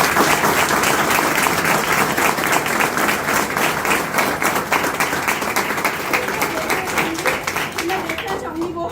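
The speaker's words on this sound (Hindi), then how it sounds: "एक बार जोरदार तालियां इनके लिए।" A large audience at a Modicare business seminar claps loudly and continuously for about nine seconds, a dense wash of applause that thins slightly toward the end.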